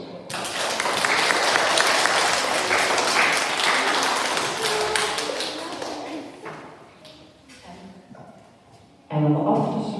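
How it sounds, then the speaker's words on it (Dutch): Lively applause from a group of young children, loud dense clapping that gradually thins to scattered claps, then a voice starts speaking near the end. "Dus ook voor jullie nog een keer een hele dikke applaus."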